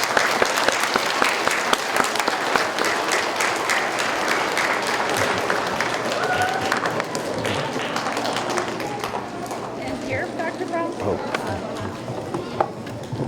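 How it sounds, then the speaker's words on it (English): Students in an audience applaud after a keynote presentation, a dense, steady clatter of many hands lasting throughout, with voices and cheers mixed faintly beneath it and a few sharper claps standing out. "So give yourselves a big round of applause."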